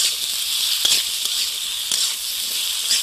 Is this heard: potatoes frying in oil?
yes